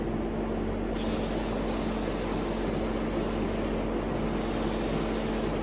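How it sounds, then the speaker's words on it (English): A steady, loud hiss of aerosol carburetor cleaner spraying a generator carburetor starts abruptly and runs continuously for several seconds, close to the listener. "I like to go ahead and just spray everything off, carb cleaner."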